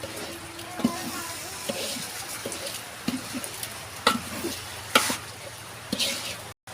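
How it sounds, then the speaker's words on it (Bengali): Food cooked and stirred outdoors at a small group picnic: intermittent scraping knocks of a utensil against a pot over a low sizzle, with people chatting nearby. "রান্না বান্না করতেছি"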